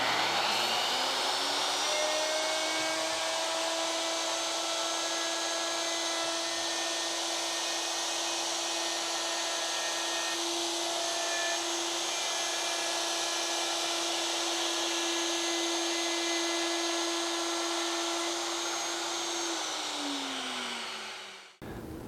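A plunge router cuts a dado in wood guided by a shop-built jig, giving a loud continuous high whine that holds steady and then winds down as the motor stops at the end.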